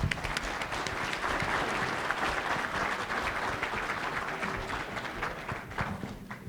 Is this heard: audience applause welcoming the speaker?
yes